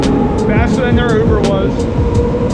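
Ride on the Medellín metro train to Poblado station, with a steady loud rumble of the carriage running under close talk throughout.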